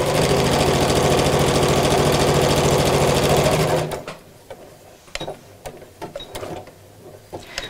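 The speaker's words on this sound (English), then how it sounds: "At the top of the pocket, we're going to reverse backwards and then forwards a couple of times, just to strengthen the seam at the top. And then sew straight down." A sewing machine stitches a pocket seam at steady high speed for several seconds, then stops. Soft handling clicks and light fabric rustling follow, close by and without talk.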